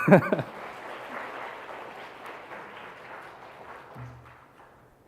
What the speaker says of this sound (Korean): 박수를 좀 한번